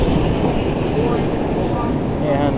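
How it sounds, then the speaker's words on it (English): A Chicago CTA elevated train arrives at the Wabash stop in the Loop on a windy blizzard night, a dense, steady rumble of wheels and cars close by, with wind noise and some speech mixed in. "I'm going to get on this train coming here."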